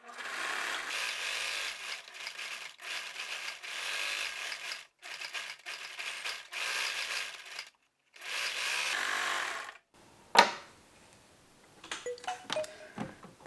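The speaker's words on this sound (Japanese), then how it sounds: "ポケット周りにロックミシンをかけます。" An overlock serger stitches around pocket edges on a high-neck vest in several short bursts of steady whirring with brief pauses between them, followed by scattered clicks and handling noises.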